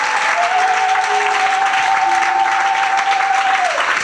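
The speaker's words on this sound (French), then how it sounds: "Clap for God." A church congregation bursts into loud, dense applause that fills the space with sustained clapping, and a steady held tone runs beneath it.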